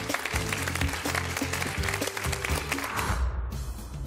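Audience applause at the close of a Slovak hidden-guest TV show, a dense steady wash of clapping over music that fades out near the end.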